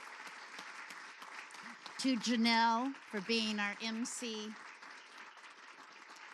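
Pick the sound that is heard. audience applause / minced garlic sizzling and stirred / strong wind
audience applause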